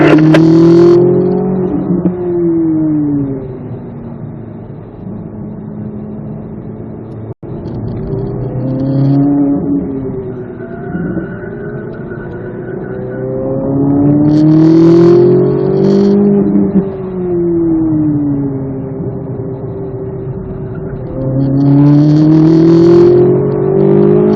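A Chevrolet Corvette Z06 laps a race track at a driving school. Its loud engine rises and falls through repeated hard accelerations and lifts, heard up close from inside the car.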